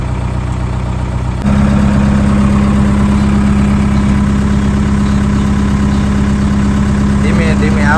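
A farm tractor engine runs close by with a steady low idling drone that grows louder after the first second and holds constant, with voices talking faintly over it.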